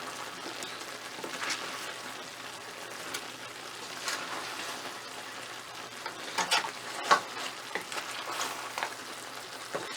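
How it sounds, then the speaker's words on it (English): Pork and chicken adobo sizzling in a pan while being stirred, a soft continuous crackle with occasional louder scrapes and spatters near the end, no talking. "It's time to stir."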